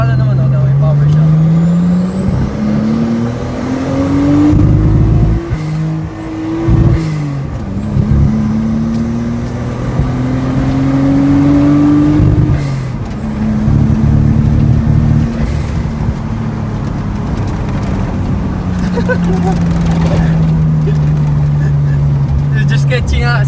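A Nissan Skyline R33 engine, not yet in good condition, is revved repeatedly at half throttle, each rise and fall in pitch loud and close, with people talking over it.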